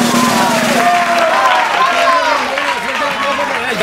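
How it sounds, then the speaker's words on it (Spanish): Studio audience at a Spanish TV variety show applauding loudly and continuously, a dense wash of clapping mixed with crowd noise and a voice speaking over it throughout. "Por favor, fuerte el aplauso, más fuerte para él."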